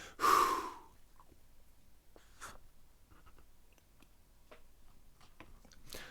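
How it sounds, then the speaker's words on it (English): A freediver forcefully exhales, pushing out all the air from the lungs in one strong breath at the start, followed by quiet faint breathing and small clicks. "So you breathe out everything."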